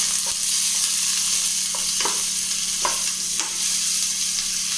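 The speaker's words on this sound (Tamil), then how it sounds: "எண்ணெய் ஹீட் ஆனதும் நம்ம எடுத்து வச்சுருக்க பட்டை, லவங்கம், பிரிஞ்சி இலை இதை போட்டுக்கணும். அப்புறம் வெங்காயத்தை போட்டுக்கணும்." Onion with cinnamon, cloves and bay leaf frying in hot oil for a vegetable biryani, a dense continuous sizzle with several soft spatula strokes, close and loud.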